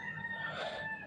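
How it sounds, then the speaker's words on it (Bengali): A chicken on a village road gives a short, faint crowing call at a distance, heard alone against soft outdoor background noise. "মুরগিটা এখানে দাঁড়িয়েছে, যাইতেছে না।"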